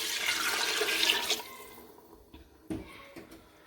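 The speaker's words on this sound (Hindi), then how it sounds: "अब मैं इस पॉइंट पे आके इसके अंदर डालूंगी ये 1 लीटर पानी" One litre of water is poured into browned mutton nihari masala in a cooking pot, a rushing splash that runs for over a second and then fades, followed by a few small clinks and drips.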